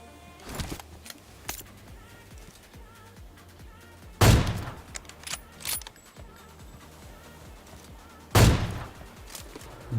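An AWM sniper rifle fires in a battle royale video game, two loud, sharp booming shots several seconds apart with echoing tails, over faint ambient game noise and a few smaller clicks.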